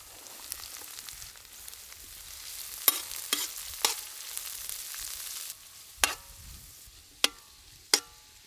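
Chopped onion, beans, carrot, cabbage and capsicum sautéing in groundnut oil give a low, steady sizzle, punctuated by sharp, distinct clicks of a spatula stirring the pan, heard alone.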